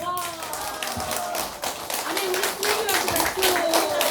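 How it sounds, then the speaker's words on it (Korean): Audience at a laughter-therapy lecture claps along in quick rhythmic bursts while a speaker's voice carries over the clapping. "해보시면 조상윤 박사님 박수"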